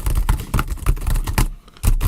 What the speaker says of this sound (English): This is my actual typing speed.